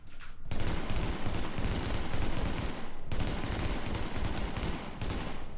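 An assault rifle in The Division game fires in loud, rapid bursts, two long sustained volleys separated by a brief pause, close and dense with no talking.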